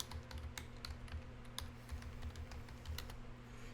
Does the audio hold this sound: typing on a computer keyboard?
yes